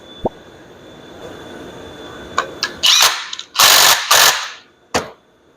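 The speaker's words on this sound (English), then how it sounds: "I'm just going to tighten it up with this nut" A nut being tightened during work on an IH TA unit: a single click, then quick bursts of ratcheting clatter with short gaps, loud and close.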